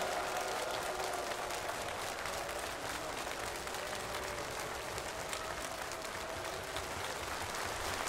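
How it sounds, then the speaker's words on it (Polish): Sustained concert applause fills a sports-hall crowd after a golden-oldies singer's set, a dense steady wash of many hands clapping throughout, fairly distant and even, with a faint voice underneath. "Wielkie brawa."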